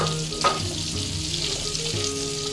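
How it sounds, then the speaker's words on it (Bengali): Bitter gourd frying in oil in a pan, a steady close sizzle with a few brief clinks and stirring scrapes. "এইবারে আমি উচ্ছেটাকে দেব, দিয়ে আমি লাল লাল করে ভাজবো।"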